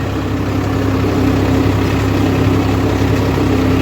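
A tractor working a field with a rotavator idles in a steady, loud, even drone with a constant low hum, with no voices.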